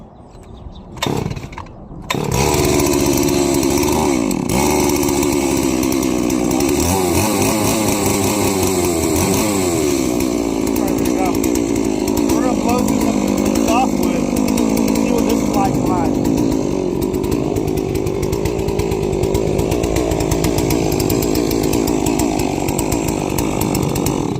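A Farm Mac F380W firewood processor's engine, warmed up with the choke off, runs steadily and loudly after a short start, a continuous close-up chainsaw-like drone with a few brief bumps near the start.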